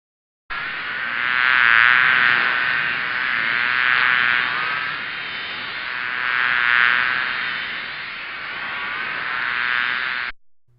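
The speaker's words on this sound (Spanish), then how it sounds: "Abeja." Steady, loud insect buzzing that drones continuously for about ten seconds, swelling and easing slightly, close and alone.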